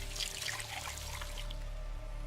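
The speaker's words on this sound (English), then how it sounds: "Can't go wrong with a little bit of water." Faint, steady trickle of water from a game world in Wasteland 2, a soft continuous liquid hiss with a low hum underneath and no voices.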